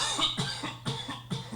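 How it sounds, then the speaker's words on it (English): A man coughs in a rapid series of harsh, close bursts right by the microphone, about four or five coughs in quick succession. "I learned how to cough away from the microphone"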